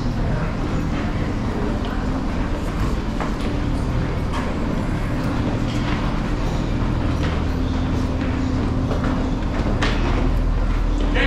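A dense, steady rumble with clattering knocks fills the clip as a train moves close by at a Banbury station platform, with no break in the noise.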